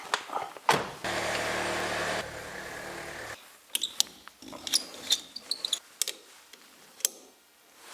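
A Jeep Wrangler engine runs steadily for a couple of seconds, then cuts off, leaving quiet outdoor ambience with scattered clicks, taps and insect-like chirps.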